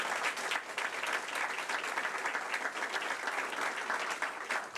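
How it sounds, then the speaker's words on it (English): Sustained applause from an audience at a community event, a dense, even wash of clapping that carries on steadily throughout at moderate distance. "Give them a round of applause."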